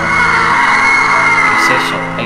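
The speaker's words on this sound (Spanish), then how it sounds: "Hay gritos y voces por todos lados." Shouting and overlapping voices in a horror-style RPG Maker game, loud yells and whoops blended with a sustained tonal drone, a crowd-like din that swells then fades slightly.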